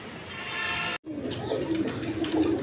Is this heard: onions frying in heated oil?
no